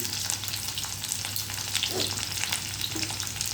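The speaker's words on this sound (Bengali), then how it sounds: "একটু অল্প একটু ফ্রাই হতে দেব" Chopped ginger, garlic and chilli fry in leftover oil for a bhindi dish, giving a steady close sizzle throughout with faint stirring scrapes.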